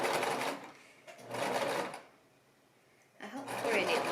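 Home sewing machine stitching fabric for a baby romper, running in two bursts as the foot pedal is pressed slowly, with a pause between and a third burst starting at the end; close and fairly loud.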